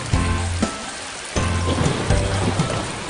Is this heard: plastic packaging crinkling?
no